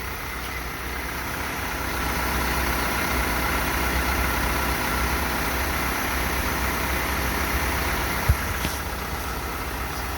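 A 2014 Isuzu NPR truck with a 4HK1TC 5.2-litre diesel engine idles steadily and close by, a continuous low rumble with no revving and one brief knock near the end.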